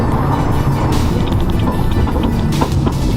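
BMW Gen1 B58 engine roars loud and close under hard acceleration, with a few sharp exhaust pops and crackles near the end.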